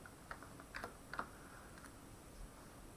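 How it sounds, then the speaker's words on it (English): A few faint keyboard key presses, Shift held and F5 struck, register as soft scattered clicks against quiet room noise, with no talking. "I'll hold down Shift and click on F5 to start from the current slide"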